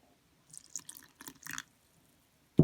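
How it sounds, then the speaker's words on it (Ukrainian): Warm water poured into a sourdough starter: soft, faint trickles and drips in short bursts, closing with a brief louder splash or knock near the end, in a quiet kitchen. "Так, наливаю водички знову."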